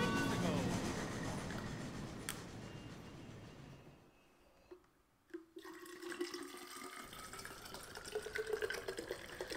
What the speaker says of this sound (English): That's just me putting water, because I'm getting thirsty.